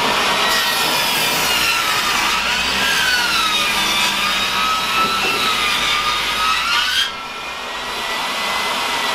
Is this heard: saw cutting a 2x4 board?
yes